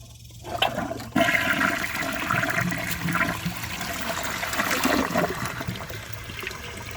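A 2007 Corona Aquajet toilet flushes with a sudden loud rush of water that swirls and drains steadily for several seconds, close and without any talk.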